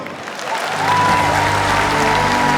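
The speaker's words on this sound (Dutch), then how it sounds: "En ik wil graag van u een heel groot applaus voor Monique Amico en Alice Boy." Steady, full audience applause at an opening event in a hall, rising quickly and holding as a dense wash of clapping with no speech over it.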